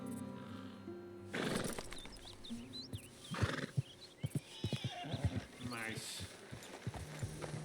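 A horse in the Red Dead Redemption 2 video game whinnies loudly, then its hooves clip-clop in a steady walking rhythm, with someone speaking briefly over it.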